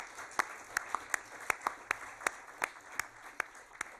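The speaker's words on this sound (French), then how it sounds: "je voudrais qu'on puisse applaudir à nouveau Pascal Desfarges" Audience applause for Pascal Desfarges at a conference talk, with scattered sharp claps rising above a steady bed of hand-clapping at moderate volume, continuing evenly throughout.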